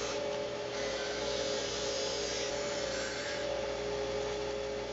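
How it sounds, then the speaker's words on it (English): A 1-inch strip sander runs steadily as inside edges of a wooden piece are smoothed, giving a continuous abrasive whir with a faint rubbing texture, close and at moderate level throughout. "the inside edges I bring over to my 1-inch strip sander"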